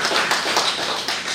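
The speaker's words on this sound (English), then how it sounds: "So that really calls for applause." Brief applause from an audience at an education conference session on project-based learning, a short burst of scattered clapping heard close and fairly loud.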